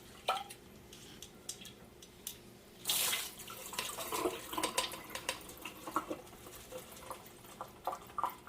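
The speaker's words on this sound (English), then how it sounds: "I'm going to pour it through my strainer" Liquid pours through a kitchen strainer into a pan while veggie sushi hand rolls are being made, a close trickling and splashing that swells after a few seconds and continues with small drips and taps.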